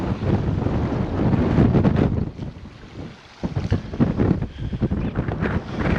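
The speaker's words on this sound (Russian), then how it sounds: "Теплый такой приятный ветерок" Warm wind gusts steadily across a microphone on the Taman coast by the sea, a loud broadband rush that dips briefly near the middle before surging back in uneven buffets.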